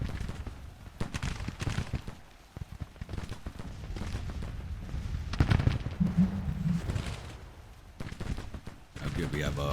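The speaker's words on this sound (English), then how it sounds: "Good, we have artillery coming down on this brigade now" Distant Civil War cannon and musket fire in the Grand Tactician strategy game, scattered booms and crackling volleys at moderate loudness across a rumbling battlefield background.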